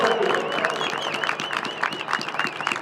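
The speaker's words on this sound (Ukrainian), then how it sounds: "Оплески нашим донаторам." Audience applause for donors at a media-league football match, brief crowd clapping mixed with a continuous tonal sound and some background voices.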